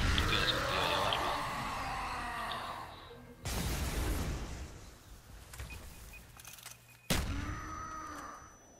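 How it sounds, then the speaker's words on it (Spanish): Heavy booming blasts from the video game Call of Duty zombies map Call of the Dead, with loud bursts cutting in sharply at intervals amid rumbling noise. "todas las explosiones me están afectando"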